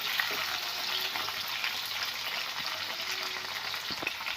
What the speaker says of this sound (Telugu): కొంచెం ఫ్రై చేసుకొని తీసేసుకుందాం.